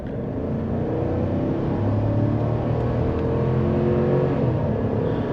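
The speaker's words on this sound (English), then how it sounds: "So I'm gonna give it a little bit of gas here just to check out how the acceleration." A 2024 GMC Sierra 1500 Elevation pickup with a 5.3L V8 accelerating, heard from inside the cab as a steady engine drone that climbs smoothly in pitch under constant road noise.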